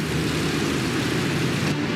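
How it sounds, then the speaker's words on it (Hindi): B-17 bomber engines being throttled down give a dense, continuous, loud propeller drone with a steady rumbling hum and no pauses. "द लिटिल स्कीपर के इंजन धीमे किए जाते हैं।"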